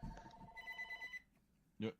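A telephone rings once, quiet and tonal, followed by a short burst of voice.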